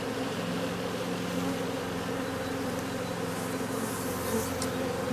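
Honeybees drone in a dense, steady buzz from an open beehive with a brood frame lifted out, the colony in the early stages of swarming fever. The swarm hum stays close and constant throughout, with no voices.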